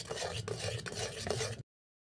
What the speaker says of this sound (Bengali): লবণটাও ভালো করে মিশিয়ে নেব।